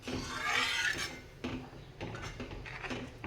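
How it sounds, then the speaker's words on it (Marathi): A spoon stirs besan pithale batter with moong dal in a pot over a high flame, giving soft scraping and clinking strokes, a longer rub at first, then several shorter knocks and scrapes, close and fairly quiet. "आता गॅस इथे मोठा करायचा आहे आणि छान चमच्याने ढवळून घ्यायचं आहे."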